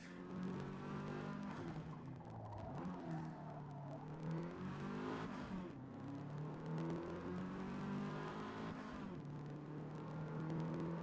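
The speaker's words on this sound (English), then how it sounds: "Oh, the engine sounds good." Race car engine in Forza Motorsport, sustained loud drone with rising and falling revs and gear changes throughout, no talk.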